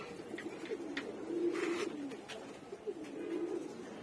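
A breeding pair of gola kosha pigeons coo softly nearby, low rolling burbling calls repeating in two main phrases over faint background noise, with no talk.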